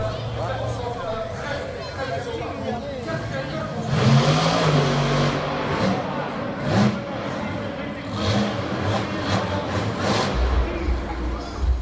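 Monster truck engine roaring at a Monster Jam show in Brussels, revving and surging in bursts over crowd noise, with commentary voices talking over it.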